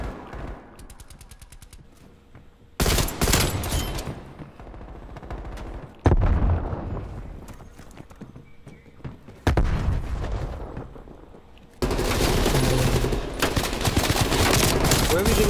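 Gunfire in the Modern Warfare video game comes in abrupt loud bursts of rapid shots and booms, separated by quieter gaps of game ambience.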